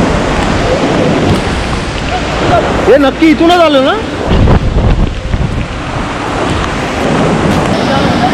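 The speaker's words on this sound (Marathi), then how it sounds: "पाऊस एवढा आहे, वारा आणि पाऊस" Heavy monsoon rain and strong wind on the Tahuli Peak trail near Kalyan, a loud steady roar with gusty buffeting of the microphone throughout, and a person speaking briefly in the middle.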